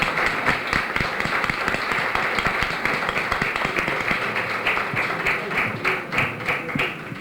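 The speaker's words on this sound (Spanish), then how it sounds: "una gran ovación en recuerdo a ellos" An audience at a bullfighting discussion gathering in Hellín gives a long ovation in tribute, brisk continuous clapping from many hands, steady and moderately loud for several seconds.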